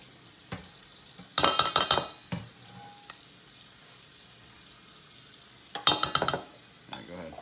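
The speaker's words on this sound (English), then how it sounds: "take the whisk and whisk it together." A whisk beating apple horseradish cream seasoned with salt and pepper in a bowl, with two bursts of quick rhythmic clicking and scraping separated by quiet, close and clear.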